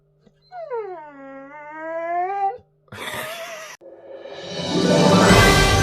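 A dog gives a long, tuneful howl lasting about two seconds, close and clear. A short burst of rough, noisy sound follows, then a rising hiss.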